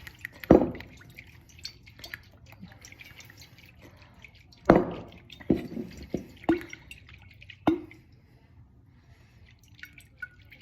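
Coconut milk drips from holes punched into a coconut, falling in a handful of distinct, irregular splats, close and fairly loud, with quiet gaps between them.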